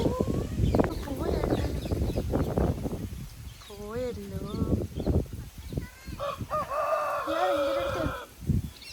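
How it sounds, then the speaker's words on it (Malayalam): Chickens cluck and call in irregular bursts, some drawn-out and wavering, mixed with people talking nearby in a busy outdoor spot in Bangalore. "കോഴിയല്ലേ ഇത്?"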